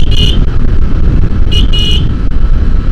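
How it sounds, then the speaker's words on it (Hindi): Honda Shine 125 motorcycle horn, a loud nasal toot sounding three times: one short beep, then a brief pause and a quick double beep, over the constant rumble of the idling engine and road noise. "हॉर्न ठीक ठाक है"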